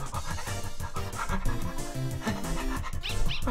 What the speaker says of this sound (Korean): 레서 도구는 흥분해서 짖고 있다